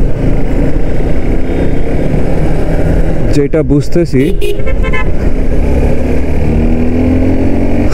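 A Suzuki Gixxer SF 250 motorcycle is ridden on the road. Its steady engine drone runs underneath a rider's voice, and a short horn toot sounds briefly in the middle.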